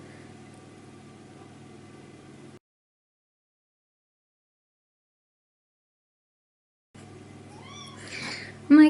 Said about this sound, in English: My cat is so funny.